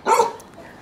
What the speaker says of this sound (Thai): โดนสุนัขทักทายแล้วครับ